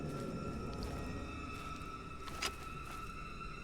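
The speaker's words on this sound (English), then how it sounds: "Why is it playing that humming sound still?" A steady, eerie drone from the Fatal Frame: Maiden of Black Water game hums continuously, low and sustained, with a brief brighter shimmer midway and no voices.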